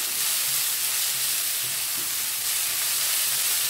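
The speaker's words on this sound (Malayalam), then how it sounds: "പകുതി മൂത്തിട്ടുണ്ട് ആ ഇഞ്ചിയും വെളുത്തുള്ളിയുമെല്ലാം" Ginger, garlic, turmeric, coriander powder, green chilli and pepper sautéing in a pan, giving a steady, loud, close hiss of frying with no pauses and no talk over it.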